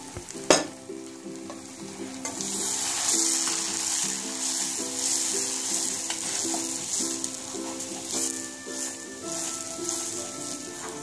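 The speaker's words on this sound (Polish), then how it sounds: "Wszystko razem mieszamy, aby uzyskać jednolitą masę." Spoon stirring a spice mixture of hot and sweet paprika, cumin and ground pepper for Turkish lentil soup, a continuous soft scraping and swishing with faint sizzling underneath, close and steady after a single sharp knock at the start.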